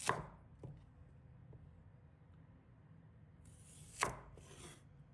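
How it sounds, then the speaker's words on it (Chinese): A few soft, sparse knife chops through peeled Chinese yam on a cutting board, one near the start and another around four seconds, with quiet kitchen ambience between. "把它切成小段"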